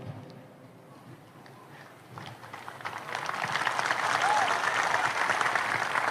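Applause from an audience at a religious lecture in Aceh, swelling from scattered clapping into loud, sustained clapping in the second half of the clip.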